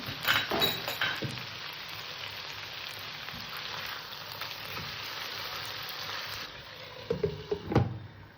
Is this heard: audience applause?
no